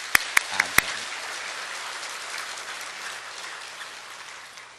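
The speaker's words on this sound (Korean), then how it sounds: "박수 한번 하겠습니다" A church congregation at an Easter service applauds the choir in a steady wash of clapping that slowly fades, with a few sharp, distinct claps at the very start.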